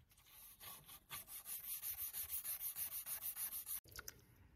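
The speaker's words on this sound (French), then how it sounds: "il faut reponcer une 3e fois avec le grain 600 mouillé" Car paint is wet-sanded by hand with 600-grit sandpaper in a steady run of about a dozen quick, even back-and-forth strokes, close and gritty, ending with a couple of looser rubs.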